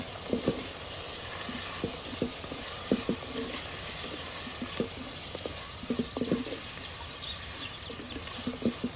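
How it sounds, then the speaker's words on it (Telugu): Tomatoes stirred into a sizzling mutton masala curry in a pan: a constant hiss of frying under irregular scrapes and knocks of a spoon, close up with no speech. "టమాటాను కూడా ఇందులో మిక్స్ చేసేసుకొని"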